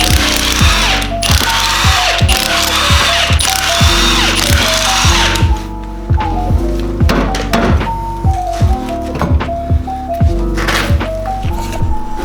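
An impact tool with a 17 mm socket spins off lug bolts on a BMW E36 wheel, a loud rapid ratcheting hammer of repeated mechanical thunks and pitch steps running almost without pause.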